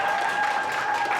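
A crowd at a Toronto rally applauds in a dense, steady wash of clapping that stays loud and even throughout, with a faint tonal hum running beneath it.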